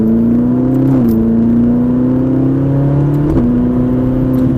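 A Ferrari 458 engine revs loudly up through the gears on the Mettet race circuit, pitch climbing, dropping at each shift, then climbing again, close and sustained.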